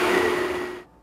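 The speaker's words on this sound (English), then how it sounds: "I'm going to use my blender to mix the ingredients." Blender mixing crème brûlée ingredients whirs steadily for under a second at moderate volume, then cuts off abruptly into silence.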